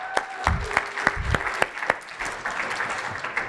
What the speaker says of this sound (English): Give her a round of applause for